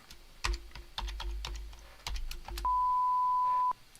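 Button presses on a keyboard in a radio studio make a few distinct clicks, followed by a steady electronic beep lasting about a second, with no talking.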